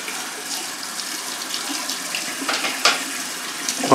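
Water runs from a bathroom tap into a sink with a steady splashing gush, close and continuous, with small shifts as the flow is disturbed.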